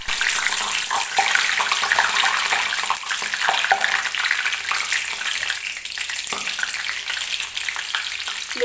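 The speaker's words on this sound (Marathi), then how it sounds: "आता मी थोडासा लसूण आणि कढीपत्ता सुद्धा या तेलामध्ये तळून घेणार आहे." Crushed garlic and curry leaves frying in oil for masala peanuts, a loud, dense, steady sizzle with faint stirring knocks, close up and without speech.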